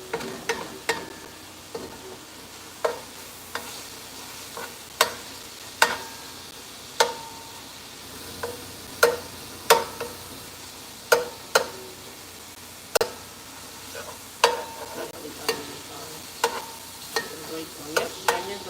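Onions frying in a pan, stirred with a utensil that knocks against it in sharp, irregular scrapes and taps over a soft, steady sizzle. Heard up close, with no talking.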